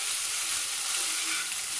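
Crushed black pepper and cloves lightly roasting in a pan for a corn and mushroom mixed-veg dish, a continuous even sizzle with faint stirring underneath, close and steady, no talking.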